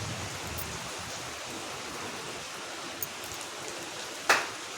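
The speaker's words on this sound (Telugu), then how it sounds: "ఇక్కడ మాకైతే వర్షం పడుతుంది, ఉరుముతుంది, మెరుపుతుంది." Soft, steady night rain patter fills the background, broken by a faint tick and then a sharp, close click near the end.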